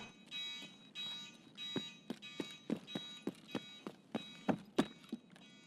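An alarm beeps repeatedly in a room during a Tarkov Interchange match, a steady high tone overlaid by rhythmic thumping pulses that grow sharper and louder toward the end.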